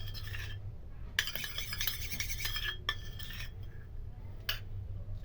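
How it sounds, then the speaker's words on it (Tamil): Multani mitti, turmeric and rose water being stirred into a face pack, with a spoon scraping and clinking against a bowl in bursts of close, soft rasping and light taps, no talking. "இப்போது இந்த ரோஸ் வாட்டரும் இந்த முல்தானி மிட்டி இந்த மஞ்சள் நல்லா மிக்ஸ் பண்ணிக்கோங்க."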